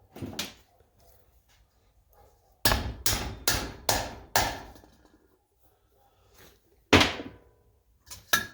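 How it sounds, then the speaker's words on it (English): A hammer strikes a socket in sharp blows, driving it onto a Model A Ford headlamp ring: one, then a quick run of four, a pause, and two more, loud and close with no talking. "we're going to put this socket over here and hit it with a hammer to get it started"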